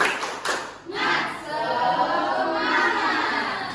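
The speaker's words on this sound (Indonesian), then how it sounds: "Jadi kita tepuk semangat dulu, oke?" A classroom of students claps together in a quick rhythmic spirit clap, a burst of sharp claps and group noise starting the clip, followed by a sustained murmur of the class.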